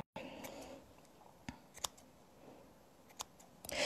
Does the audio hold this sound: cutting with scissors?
yes